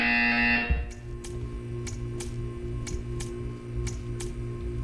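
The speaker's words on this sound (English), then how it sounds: "You will hear a buzzer. When you hear the buzzer, stare at the art." An electronic buzzer blares loudly in Portal 2, then cuts off, followed by a series of regular sharp ticking clicks over a low ambient hum.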